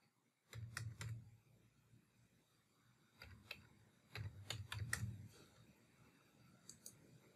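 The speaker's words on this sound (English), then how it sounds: "and then type the number" Quiet clicks of a computer keyboard as a number is typed, coming in two short bursts of quick keystrokes separated by a pause, with a few faint taps at the end.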